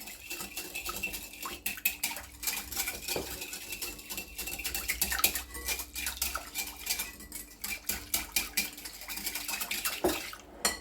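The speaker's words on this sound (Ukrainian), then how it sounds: "І тепер вінчиком розмішую, щоб дріжджі всі розійшлись гарно" A whisk clatters rapidly against the side of a bowl, dissolving yeast and sugar in liquid, a steady stream of quick metallic clinks and taps that continues without pause.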